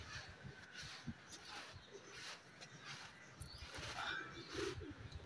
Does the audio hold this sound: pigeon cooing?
yes